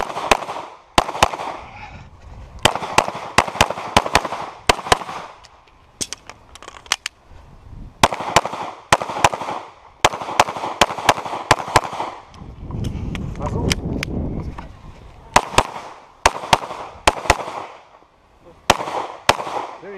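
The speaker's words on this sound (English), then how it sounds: "today I'm shooting my CZ P10C. It's Badger rounds, they're polymer coated." A CZ P10C 9mm pistol fires polymer-coated Badger rounds in sharp, loud cracks, delivered in quick strings of several shots separated by short pauses, with faint voices between the strings.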